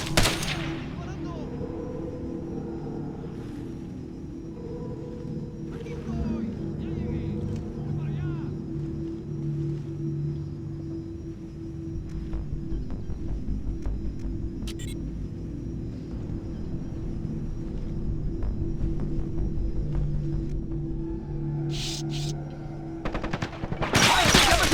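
Enemy gunfire crackles in Ghost Recon Advanced Warfighter: bursts of automatic weapon fire and scattered shots over a continuous engine-like rumble, with voices speaking intermittently throughout.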